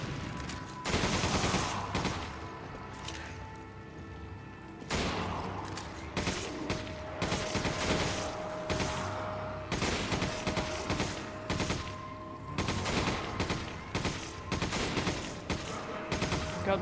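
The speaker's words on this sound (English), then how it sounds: "Machine gun does so little damage, it's ridiculous." Sustained automatic gunfire from the video game Resident Evil 5, in long continuous bursts broken by brief pauses, loud and close with a layered, crackling texture.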